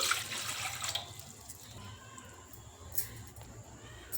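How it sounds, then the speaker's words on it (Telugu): Water poured into a pot set on a kitchen stove to steam drumstick leaves, a soft splashing pour that is strongest at the start and then settles into a quieter trickle, with no talk. "ఈ స్టవ్ మీద ఇలా గిన్నె పెట్టుకొని ఆవిరి మీద ఉడకబెట్టాలన్నమాట దీనికి సరిపడా కొన్ని నీళ్ళు పోసుకొని"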